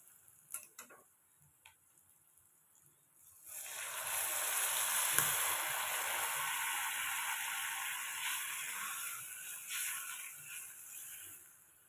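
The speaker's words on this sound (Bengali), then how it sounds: "মশলার সাথে মাছ আর পেঁয়াজগুলো একসাথে ভালোভাবে মিশিয়ে নেব" Tengra fish, chopped onions and spices are stirred together in a pan: a few light clicks, then a sustained soft hissing sizzle with faint scraping that continues to the end, with no speech.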